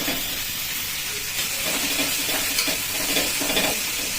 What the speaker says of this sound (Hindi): पियाज को भलसे खोला खोला करदे ताकि से भलसे भाजी हम।